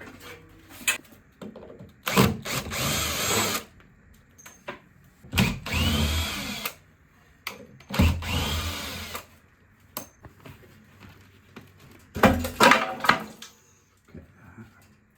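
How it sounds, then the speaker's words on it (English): A power drill bores through a wooden shutter during a DIY villa renovation, sounding in four loud, close bursts of whirring separated by quieter gaps. "I drilled a hole through the shutter"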